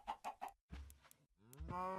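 Minecraft chicken clucks in the video game, a quick triple cluck followed by two longer, more drawn-out clucking calls, clear and close with no talk over them.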